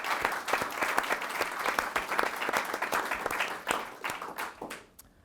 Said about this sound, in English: So round of applause for Dartmouth Political Union.